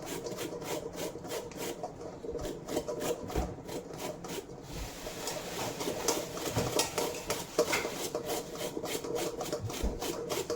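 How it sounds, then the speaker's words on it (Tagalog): Santol fruit being grated by hand for ginataang santol with shrimp, a steady close rhythmic rasping and scraping that repeats in quick strokes throughout, with no talking. "kakayurin na naman natin tong santol"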